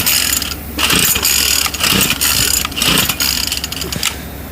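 A small two-stroke string trimmer engine sputters and revs in uneven bursts while failing to keep running, loud and close, with no talking.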